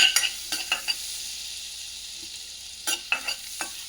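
Chopped carrots and onions fry in butter with garlic in a pan, giving scattered bursts of sizzle and stirring scrapes separated by quieter stretches, close and without talk.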